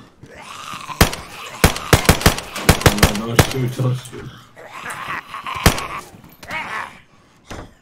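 Gunfire in the survival video game DayZ cracks out in a rapid burst of sharp shots, then a couple of isolated later bangs, with players talking over and between them.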